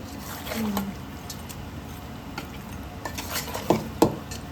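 A spoon stirs a chicken curry mixture in a pan, giving soft scraping strokes over a low background hiss, with a couple of sharper scrapes near the end.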